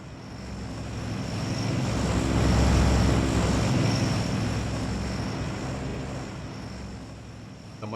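Bomber aircraft pass overhead in an online survival game, a steady droning engine roar that swells to a loud peak near the middle and slowly recedes, with no talking.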